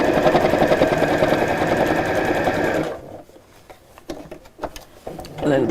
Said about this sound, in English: If I can find the foot pedal, we'll sew.